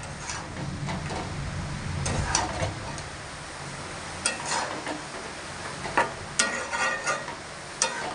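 Vegetables, including pointed gourd, stirred and mixed in a pan on an unlit gas stove: a steady scraping rustle with sharper spoon clicks and knocks against the pan near the end.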